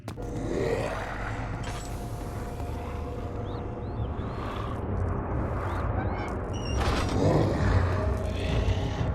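Long low grinding creaks and scraping of a door mechanism in the horror game Amnesia: The Dark Descent, with rumbling booms and higher squeaks over a dense, ominous background that swells toward the end.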